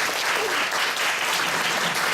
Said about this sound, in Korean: 우리 두 분을 다시 한번 뜨겁게 박수로 환영하도록 하겠습니다